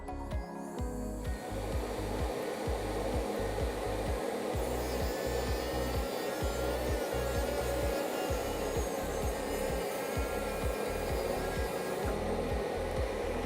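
A cutting disc saws steadily through a dental stone die while a dust vacuum roars continuously underneath, a dense, loud grinding whine with rhythmic pulses and no talking.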